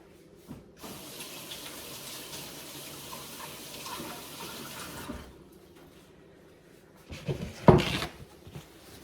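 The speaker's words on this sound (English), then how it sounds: "now wash my hands" Hands washed under a running kitchen tap while baking a Bisquick coffee cake, a steady broadband splash of water for about five seconds, then a brief louder gush and clatter near the end.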